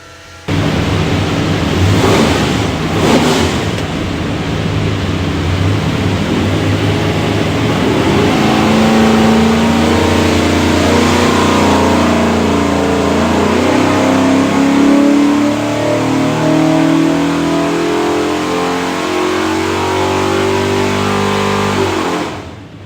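A 427ci small block Ford V8 built for a 1967 Mustang runs on a dyno, revving up in a long, loud, sustained pull with rising engine roar and no talk.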